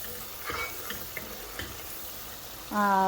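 Spice masala for a hilsa curry with taro roots fries in a pan with a quiet sizzle and a few light stirring knocks, close and low in level, and a brief brighter burst of sound at the end.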